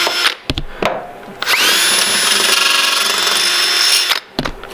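A power grinder whines loudly and steadily against tan seam sealer on a car body after a few brief starts, running close for several seconds before cutting off.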